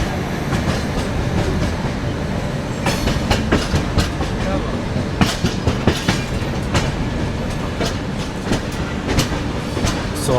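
The Telangana SF Express rolls from New Delhi toward Hyderabad with a loud, steady rumble and rhythmic clickety-clack of wheels over rail joints, heard from inside the carriage.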